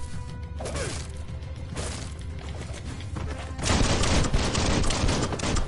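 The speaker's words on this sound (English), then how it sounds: "Shoot that barrel by him, boy." Gunfire rings out in Biomutant as shots are aimed at a barrel, a fast volley of cracks followed by a louder burst of blasts and crashing debris, all loud and close.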